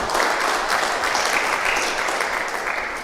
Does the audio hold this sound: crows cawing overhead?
no